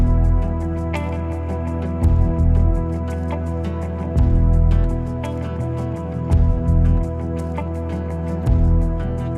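Drumstick pods are washed in water for a large batch cooking for 600 people: repeated splashes, squishes and drips come in rhythmic bursts close by, with no talking.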